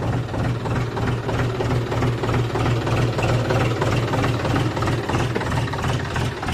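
A farm tractor's engine runs with a loud, steady, throbbing low chug as the machine is driven out onto the field, its pulse continuous and close by.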